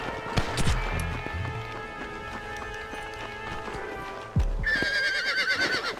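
A horse in the Red Dead Redemption video game neighs twice, with clopping hooves at the start and a loud, shrill whinny near the end over a faint musical drone.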